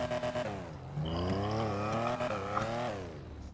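A sports car with butterfly doors, in a GTA roleplay game, revs its engine hard, the pitch sweeping up and down over a few seconds, loud and close with no talking.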